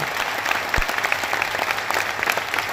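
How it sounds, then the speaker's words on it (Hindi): A crowd claps loudly and steadily for a revered swami at a Shiv Mahapuran religious gathering in Pimpalgaon, a dense sustained applause with no talk over it. "एक बार जोरदार ताली बजा के पूज्य महाराज जी को धन्यवाद दें।"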